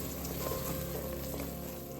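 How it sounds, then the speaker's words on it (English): Hot English toffee, flavoured with vanilla, pours out onto a pan in the kitchen, giving a steady close sizzling, frying-like hiss that runs without a break and with no voices. "Stir that up and then we're gonna pour it onto our pan."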